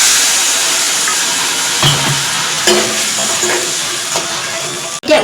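Spiced instant noodles sizzle loudly in a pan as water goes in, with steady frying hiss, scraping stir strokes and clinks of a utensil throughout, ending in a sharp knock.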